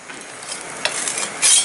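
Tilapia frying in a pan, a continuous crackling sizzle with a few louder spatters and stirring scrapes, close and alone without talk.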